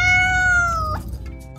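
A pet cat lets out a single clear, close meow, drawn out and bending upward at the end, then trails off into quiet room noise.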